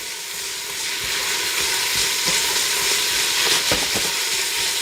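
Ingredients for tomato basil soup sizzle steadily in a hot pan, a constant frying hiss with occasional soft stirring scrapes and clicks, close and even throughout.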